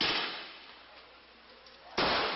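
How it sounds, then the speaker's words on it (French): Gunshots ring out in the alleys of a Rio favela. Two sharp, loud cracks a couple of seconds apart, the first trailing off in a long echoing decay. "voilà l'autre réalité. Des coups de feu."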